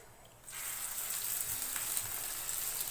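Egg-dipped bread pieces hit hot oil in a pan and burst into a loud, steady sizzle that holds continuously after a quiet start.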